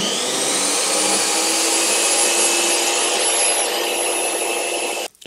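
A jobsite table saw rips through wood using an Incra Miter Express sled, a loud steady whine with cutting rasp held for about five seconds before the blade winds down and stops.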